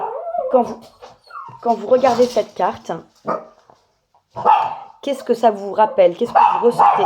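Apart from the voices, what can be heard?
dog barking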